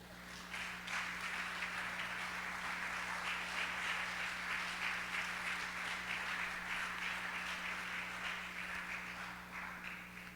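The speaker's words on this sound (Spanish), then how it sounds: "Un aplauso para ellos." A church congregation applauds during a pastor's sermon, a soft, steady spread of clapping heard from some distance over a constant low hum.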